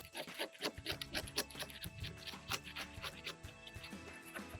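A 5-in-1 tool scrapes old caulk and butyl tape off the roof corner of a 1980 Coleman camper, giving close, rapid rasping strokes in an uneven rhythm with no talking.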